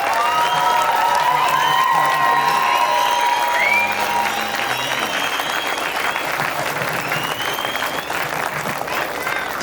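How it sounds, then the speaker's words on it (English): A room full of people at a benefit event applauds continuously with scattered whoops and cheers, loud and sustained, with some talk faintly underneath. "I'd like a round of applause for all of them on top of the previous survivors"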